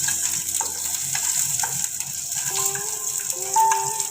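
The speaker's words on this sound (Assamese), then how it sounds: "আমি দিম পিয়াজখিনি অকমান ফ্ৰাই হ'বলৈ দিম" Raw onions frying in a pan for an Assamese-style egg tikka masala, a steady broadband sizzle that runs throughout with faint background tones, no talking.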